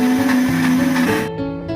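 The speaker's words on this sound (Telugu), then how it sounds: "దాన్ని మనం మిక్సీ చేసి ఆ ముద్దని పక్కకి పెట్టుకోవాలి." An electric mixie grinder blends onion and tomato pieces into a paste for a function-style mutton curry, its loud, close motor whirring steadily and then winding down toward the end of the short burst.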